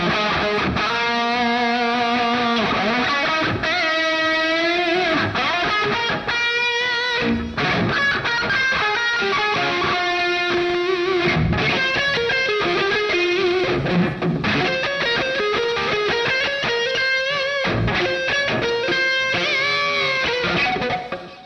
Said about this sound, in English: The lead sounds in here are exquisite.